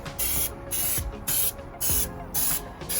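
Spray gun bursts applying Raptor liner paint to an Astro van, six short hissing sprays in a regular on-off rhythm, loud and close, with brief pauses between each pass.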